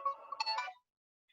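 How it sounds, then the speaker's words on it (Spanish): A mobile phone ringtone plays a short melodic electronic phrase, close and clear, then cuts off abruptly into silence. "voy a apagar el teléfono"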